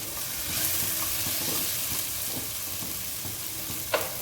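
Tomatoes and grated coconut fry in a pan as they are stirred, a continuous close sizzle with soft scraping strokes and a sharp clink near the end.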